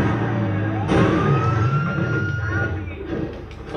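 A wailing ambulance siren in a driving video game rises and falls steadily under a loud engine rumble and persists throughout.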